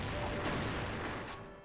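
Gunfire in a video game landing a headshot, a short loud burst of shots with sharp reports in quick succession, fading toward the end.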